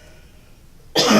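A single sharp cough bursts out loudly at the end after a near-silent stretch in a meeting room, close and abrupt.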